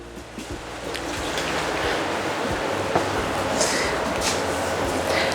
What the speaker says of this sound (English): Little bit of water in there